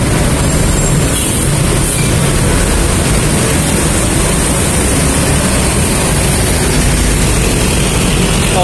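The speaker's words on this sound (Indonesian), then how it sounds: "di atas itu ada suara MRT baru lewat" An MRT metro train passes overhead at the ASEAN station junction near Blok M, Jakarta, a loud, steady broadband rumble mixed with city traffic noise that fills the whole stretch without a break.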